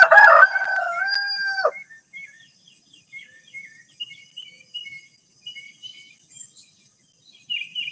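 A rooster crows once, loud and fairly close, a long cock-a-doodle-doo, followed by faint chirping bird calls and insects in a quiet yard.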